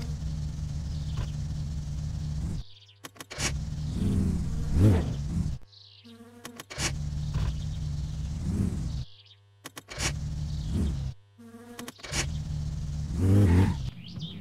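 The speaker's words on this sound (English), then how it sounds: "we'll get ready to take this thing out for a quick test drive to the road and back" Car engine driving during a quick test drive to the road and back in the video game My Summer Car, a steady low engine hum broken by repeated cuts and short gaps, with scraping and mechanical noises between runs.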